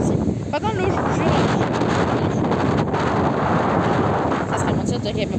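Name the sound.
strong wind at the beach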